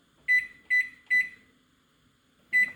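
Whirlpool oven control panel giving four sharp electronic beeps, three evenly spaced and one after a pause, while the clock is set in a quiet kitchen.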